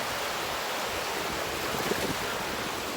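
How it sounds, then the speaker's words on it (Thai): Sea waves wash onto a beach in a soft, continuous rush of surf mixed with wind buffeting the microphone, fairly quiet and unbroken, with no speech. "ถ้ายังนี่ทะเล"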